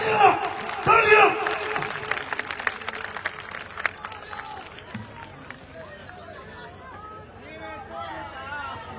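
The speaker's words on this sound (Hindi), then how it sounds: "सबके लिए तालियां, तालियां, तालियां।" A crowd at a political convention in Layyah applauds and cheers loudly at first, then the clapping thins into scattered claps and murmuring chatter over several seconds.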